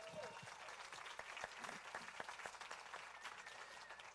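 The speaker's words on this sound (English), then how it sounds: "Round of applause for that, please." Audience applause at a film festival awards ceremony, the 9th Annual South Texas International Film Festival, with steady dense clapping filling the room throughout.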